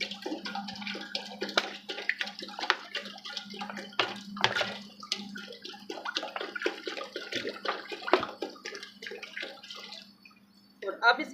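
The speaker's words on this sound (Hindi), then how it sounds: "अब इसके अंदर बिस्मिल्लाहिर्रहमानिर्रहीम हम पानी ऐड कर देंगे" Water is poured into a cooking pot to boil rice for chicken biryani, giving a run of irregular splashing and gurgling bursts close by over a faint, steady low hum.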